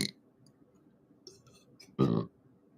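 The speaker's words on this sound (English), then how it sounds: "Excuse me, spiritual burp." A person gives one short, loud burp close to the microphone in a quiet room, preceded by faint mouth sounds and breaths.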